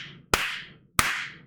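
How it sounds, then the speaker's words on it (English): Two sharp hand claps about half a second apart, each a crisp close slap with a short decaying room echo, alone without voices. "Let's give her a round of applause."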